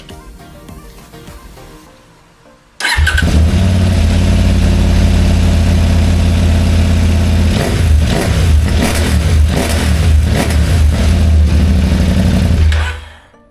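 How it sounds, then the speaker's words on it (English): A CF Moto 800 MTX motorcycle with standard exhaust, decat pipe and DNA filter starts abruptly and runs loud and close, holding a deep, steady rumble with some revving before cutting off. "Listen to the standard exhaust plus Decat pipe and DNA filter."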